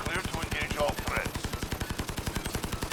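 PP19 Bizon submachine gun in Call of Duty Modern Warfare firing continuously at a wall, a rapid, evenly spaced burst of sharp close shots running the whole length, with a voice talking over the start.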